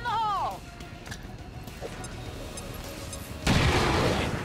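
A frag grenade goes off in XCOM 2, a single loud broadband blast arriving late and decaying over about a second, after a stretch of quieter game ambience and a brief tonal sweep at the start.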